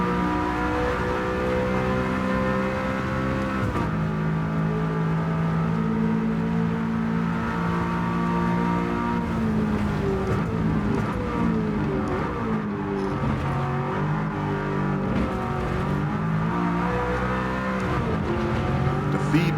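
Race car engine in Gran Turismo 7 on a hot lap with warmed tires, loud sustained revving that climbs and drops through gear shifts, with brief tire squeal, running alone and close throughout.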